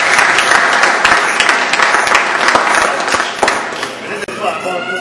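Audience applause at a community association event: dense, sustained clapping from a crowd lasting several seconds, loud and close, with voices mixed in.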